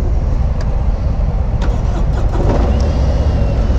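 A 2018 Harley-Davidson Street Glide engine starts and runs, a steady, loud, close-up low-pitched rumble filling the whole clip with a slight rise in intensity near the end.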